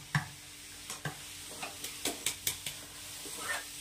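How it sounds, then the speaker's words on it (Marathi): Grated carrot for gajar halwa stirred and cooked on a high gas flame, with a low sizzle beneath a series of distinct spoon-scraping strokes against the pan in an uneven rhythm. "याला छान फिरवून घ्यायचं आहे, शिजवून घ्यायचं आहे आपल्याला किसला या गाजरचा"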